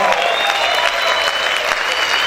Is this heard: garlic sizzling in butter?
no